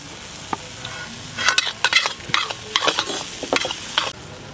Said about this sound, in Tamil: வதக்கிறதுக்கு கசகசா சேர்த்துக்கிடுவோம்.